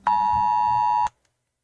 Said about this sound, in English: I'm getting notifications left and right.